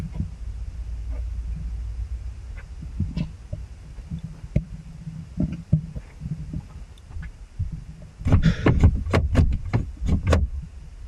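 Someone outside a parked camper van at night tries the van door: a burst of sharp rattling clunks and knocks near the end, following a long stretch of low, quiet rumble with a few isolated taps.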